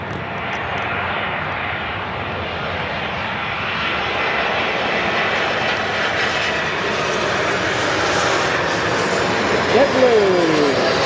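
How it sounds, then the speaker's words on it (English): A JetBlue Airbus A220-300 jet arriving from JFK at Milwaukee's General Mitchell airport, its engines a steady broad roar that swells slightly as it nears, with some voices in the background. "JetBlue, arriving from JFK on an A220-300."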